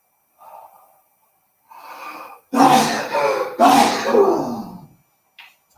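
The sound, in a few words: sneeze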